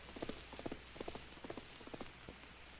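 Faint, irregular hoofbeats clop along softly, a horse ridden bareback walking over a soft forest trail at some distance, with no other sounds standing out.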